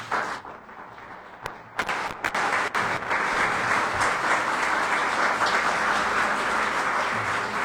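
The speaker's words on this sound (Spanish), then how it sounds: "Damos un aplauso por los maestros de la congregación" A church congregation breaks into applause for its teachers during a sermon. After a few scattered, sharp claps the clapping swells into a full, sustained round that fills the room.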